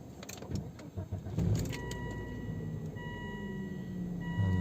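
A 2002 Volvo XC70 2.4 engine starts up: a few clicks and rustles first, then the engine catches with a rising rumble and settles into a steady, moderately quiet idle.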